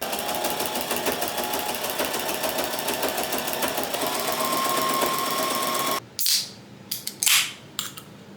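A sewing machine runs steadily for about six seconds, sewing the last top seam of a cherry pie dog bed, then stops abruptly, leaving a few short clicks and rustles of fabric handling. No one speaks.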